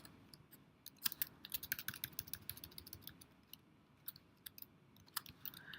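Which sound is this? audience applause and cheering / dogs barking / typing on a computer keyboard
typing on a computer keyboard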